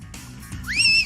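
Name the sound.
person whistling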